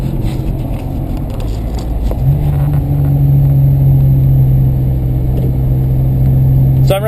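A 1990 Isuzu Trooper, modified, driving along warmed up: a steady, loud engine drone with road rumble throughout, a low tone rising and holding partway through, heard from inside the cab.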